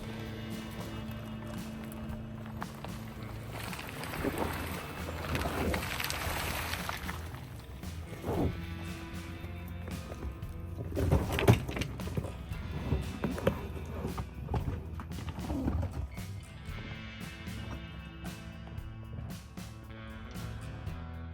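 A BAIC B30e on deflated highway-terrain tires crawls over rocky off-road ground, with steady close rumbling, crunching and scraping and irregular knocks as the tires climb the rocks.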